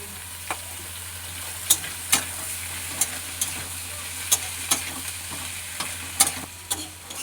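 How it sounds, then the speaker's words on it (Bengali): Chopped vegetables with banana stem pieces being stirred in hot oil in a pan for a spinach dish, a low steady sizzle broken by sharp scraping clinks of the spatula at irregular intervals, close by and with no talk. "এবার এই সবজিটা আমি এর মধ্যে দিয়ে দিই।"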